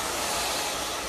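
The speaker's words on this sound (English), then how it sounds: "This hair dryer gets incredibly hot. It's very powerful." A Palux motor twin turbo 3800 hair dryer running at full power in a salon, a loud steady broadband whoosh of blowing air with no talking.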